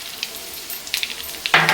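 Panch phoron and a bay leaf sizzle in hot oil left from frying bitter gourd, a soft crackle that swells into a sharp, loud burst of frying near the end.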